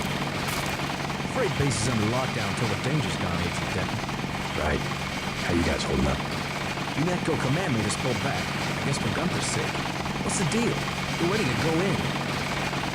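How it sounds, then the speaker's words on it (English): A helicopter in Deus Ex drones steadily, its rotor a constant whirring hum that stays loud in the background while people talk over it throughout. "That's a helicopter."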